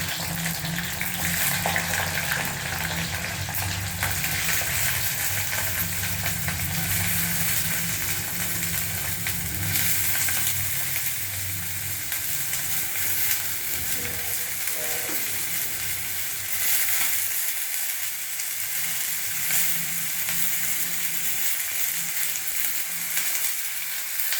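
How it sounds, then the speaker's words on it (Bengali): Vegetables for veg chowmein hit hot oil and fry with a loud, steady sizzle, bubbling and crackling close by and fading slightly toward the end, with faint stirring and no talking. "এখন আমি একে একে সমস্ত সবজি তেলের মধ্যে ছেড়ে দিচ্ছি।"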